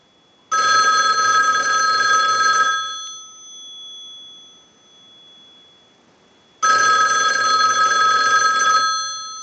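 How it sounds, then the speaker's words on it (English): A loud electronic single-slot payphone bell rings in two long bursts separated by a quiet pause, close and clear with no talking. "send a ring cycle like you were getting a call"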